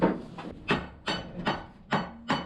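Light hammer taps on a farm machine shaft during dairy-farm repair work, six sharp metallic knocks spaced about every half second, close and fairly loud, with no talking.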